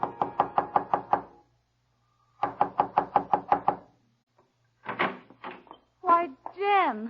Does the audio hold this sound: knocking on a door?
yes